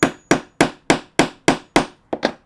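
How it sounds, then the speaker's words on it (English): A hammer strikes a rivet setter to set a rivet on a handbag, landing eight sharp, evenly spaced metallic blows, loud and close, with the last two coming quicker. "Hammer it down."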